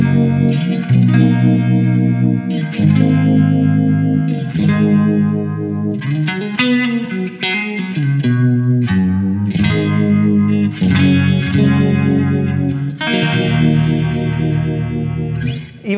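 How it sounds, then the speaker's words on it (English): An electric guitar played through the univibe effect of an Eventide H90 pedal, with reverb, gives sustained, swirling chords and melodic lines that ring on steadily and loudly throughout with no pauses. "Eventide do some of the best univibes on the market."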